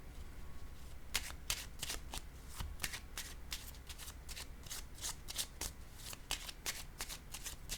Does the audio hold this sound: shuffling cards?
yes